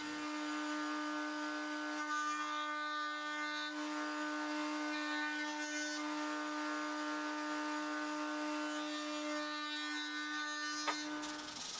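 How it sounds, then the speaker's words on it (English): A router cuts a round-over profile along the edges of wooden ribs and a top ring for a skeleton bowl, a steady close high-pitched whine with a constant tone that holds throughout and cuts off near the end. "Next up was adding a round over to the top ring and to each of the ribs."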